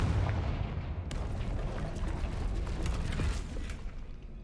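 Confringo fire spell exploding in the video game Hogwarts Legacy, a loud burst with booming, crackling impacts and rumbling debris over game ambience, fading toward the end.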